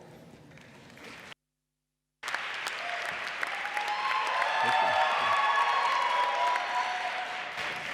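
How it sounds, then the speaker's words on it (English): Applause from a graduation ceremony audience, steady and sustained, fills the room after a brief silent gap, swelling louder with a few cheers mixed in. "You get the applause before you even start."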